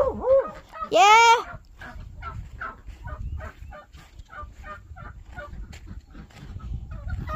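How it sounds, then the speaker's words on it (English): Morning chicken coop with fowl squawking and honking loudly at the start, then a steady run of clucks and chatter, close and mid-level. "time to get the chickens"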